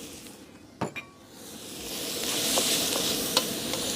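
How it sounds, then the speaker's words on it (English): Shrimp frying in oil in a pan, a steady broadband sizzle that swells and holds after a couple of sharp clinks of utensils near the start, with faint stirring scrapes throughout. "next we're gonna be doing is cooking our shrimp"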